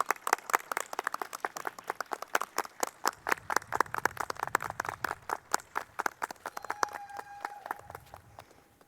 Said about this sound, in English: I'm actually going to ask you to applaud again